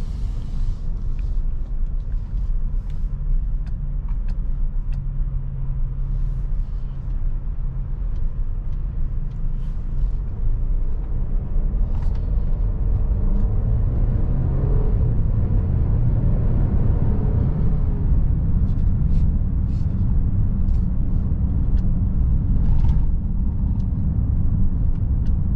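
A 2022 Mercedes-Benz GLC 300 4MATIC SUV driving in comfort mode, heard from inside as a steady low road and engine rumble with faint ticks and creaks, no talking.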